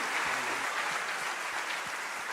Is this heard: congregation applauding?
yes